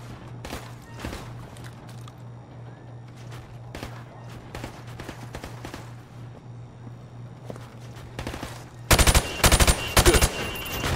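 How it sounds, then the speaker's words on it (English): Call of Duty gunfire shooting targets through plywood: after a stretch of quiet footsteps and a steady hum, a burst of loud rapid shots rings out near the end. "I want you to shoot the targets through the wood."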